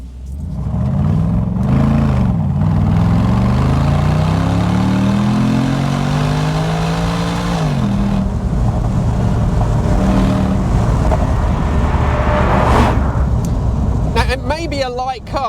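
A Morgan Aero Supersport sports car accelerates at full throttle, its engine note rising steadily in pitch through the gears with a brief dip between shifts, loud and close as if heard from inside the cabin.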